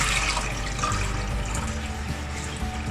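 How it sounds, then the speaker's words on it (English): Water pours steadily into a cooking pot in a home kitchen for mashed potatoes, a continuous close splashing rush that runs the whole time with no talking. "we'll start off by adding some water."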